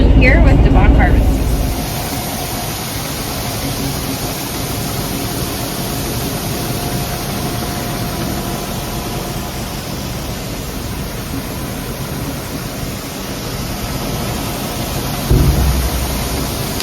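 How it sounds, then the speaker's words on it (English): A bagger tractor running during a harvest, a loud steady broadband engine roar that holds constant throughout, with a heavier rumble near the start and a brief swell near the end. "I am standing here at the bagger tractor"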